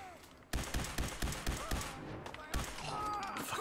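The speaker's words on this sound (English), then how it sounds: "Fucking shot him right in the face" Gunfire in the video game Fallout 4: a rapid burst of about eight sharp shots in steady rhythm, then a further loud shot, over game background noise and a talking voice.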